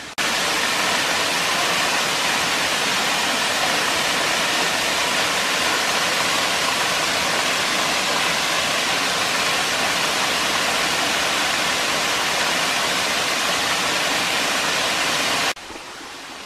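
Turkeyfoot Falls in the Sipsey Wilderness, Bankhead National Forest, Alabama, pours with a loud, steady broadband rush of falling water, unbroken and close, ending abruptly near the close.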